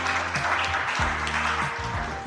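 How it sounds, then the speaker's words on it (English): Audience at a youth poet laureate celebration breaking into warm, continuous applause, steady clapping under a faint hum of the room, with no talk. "Let's clap for Busboys and Poets."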